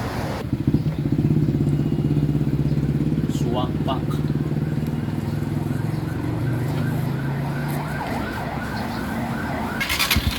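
A Honda TMX 125 motorcycle engine catches and runs steadily with a low throbbing idle that continues close by for most of the clip, while voices talk over it.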